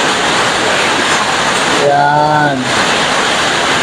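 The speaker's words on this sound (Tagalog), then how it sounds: "malakas kaya ulan natin ngayon" Dense, steady roar of heavy rain pouring nearby, with a brief spoken word from a voice partway through.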